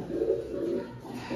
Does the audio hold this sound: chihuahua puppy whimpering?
no